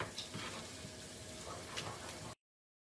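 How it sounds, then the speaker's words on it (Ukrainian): Beaten eggs with onion and lard frying in a pan, a faint steady sizzle with occasional stirring scrapes, cutting off abruptly near the end. "додаємо взбиті яйця. Ось так перемішуємо, смажимо до готовності яєць."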